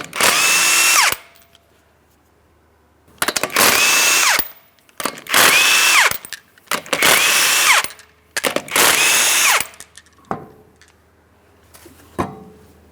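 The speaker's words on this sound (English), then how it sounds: "remove all 5 of your 19mm lug nuts so we can get the wheel off of here" An impact power tool removes the 19mm lug nuts from a front wheel of a 2008-2016 Chrysler Town & Country, sounding in five loud, close whirring bursts of about a second each with pauses between, then a shorter final burst.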